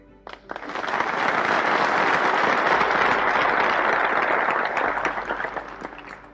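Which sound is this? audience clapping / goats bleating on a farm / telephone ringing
audience clapping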